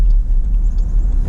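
A car passing nearby at a road junction, a steady low engine and tyre rumble holding loud throughout with no talk over it.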